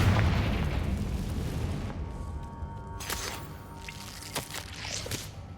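The Confringo fire spell from the Hogwarts Legacy video game bursts in a deep rumbling boom that decays slowly, followed by a few sharper crackling pops, with no talking.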